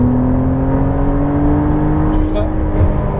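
A McLaren Artura on a racetrack accelerating at full throttle, a steady, loud engine note rising smoothly in pitch from inside the car, with an instructor talking over it.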